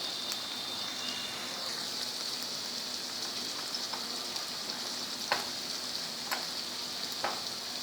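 Onion and tomato pieces frying in a pan give a steady, dense sizzle with a few brief sharp ticks and crackles, close and even throughout, with no voices.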